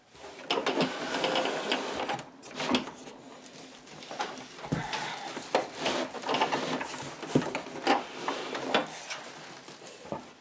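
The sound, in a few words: sewing machine sewing an apron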